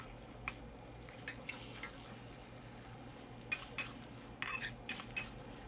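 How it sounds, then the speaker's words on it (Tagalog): Congee with mapo beancurd and fried tofu is stirred in a pot with a spoon. A few faint scrapes and clinks rise over a low steady background, with brief clusters near the end and no talk. "And then mix it well."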